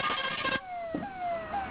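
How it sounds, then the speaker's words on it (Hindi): Ambulance and fire brigade sirens wail at a firecracker factory disaster, a loud tonal siren pitch gliding downward and repeating in quick cycles close by. "फायर ब्रिगेड के सायरन आपको सुनाई दे रहे होंगे।"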